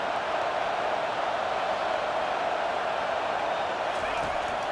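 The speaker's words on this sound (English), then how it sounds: "Decibels rising as the crowd gets behind this defense on 3rd down." Stadium crowd cheering on the defense on 3rd down in the College Football 25 video game, Oklahoma State vs West Virginia: a constant, loud crowd roar with a commentator talking over it.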